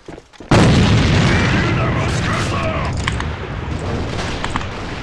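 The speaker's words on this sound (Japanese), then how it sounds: "敵の手榴弾。" An enemy grenade bursts in a first-person shooter video game: one sudden loud blast that fades into a long rumbling tail, with gunfire crackles and voices underneath.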